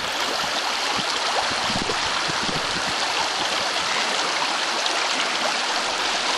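Stream of water rushing steadily at a crossing used by Adelie penguins, a broad, continuous wash of flowing water close by, with no voices.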